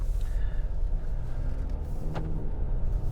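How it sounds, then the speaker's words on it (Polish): A diesel Skoda Superb or VW Passat estate pulls away under light throttle, a low, steady engine rumble heard from inside the cabin with a faint click partway through. "Ja tylko lekko musnąłem ten gaz i auto pojechało."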